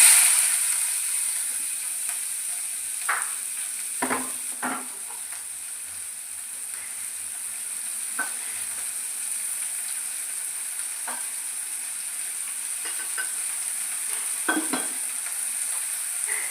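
Chopped onion and green chilli added to hot oil after mustard seeds splutter, for semiya upma: a steady high sizzle throughout, punctuated by occasional stirring scrapes and clinks of a utensil against the pan.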